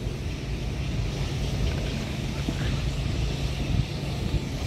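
Steady low broadband rumble of an airplane passing over a park near a bridge and railway in Taipei, continuous and fairly loud with wind-like noise throughout.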